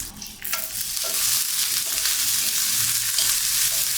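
Five red chillies and curry leaves sautéed in hot oil in a pan, a steady loud sizzle and crackle with a spoon stirring through it, close and continuous with no talk.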